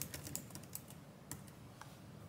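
Typing on a computer keyboard, a quiet run of light, irregular key clicks with short pauses, entering a prompt into ChatGPT, alone with no voices.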